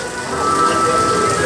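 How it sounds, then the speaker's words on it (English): Steady, dense rain patters on surfaces outdoors at a theme park, a continuous loud hiss with no voices over it. "Oh, it started raining."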